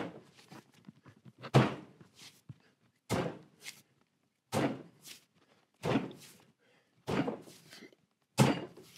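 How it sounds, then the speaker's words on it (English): A heavy reclaimed ball of clay, about 7 kilos, repeatedly dropped onto a potter's wheel, giving six dull thuds at roughly even intervals, close and fairly loud with quiet gaps between. "I'm just lifting the clay and then I let it go"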